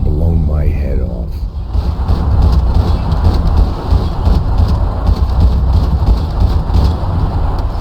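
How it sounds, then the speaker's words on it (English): Steady rain on a dark night in Max Payne 3 forms a continuous hiss with a low rumble beneath it, loud and unbroken throughout, and a brief voice-like tone near the start. "Another dark, rainy night."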